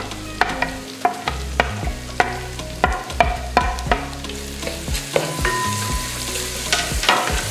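Sliced onions fry in hot oil and are stirred in a pan for a red snapper fish curry, with a steady sizzle broken by repeated sharp clanks and scrapes of a spoon against the pan.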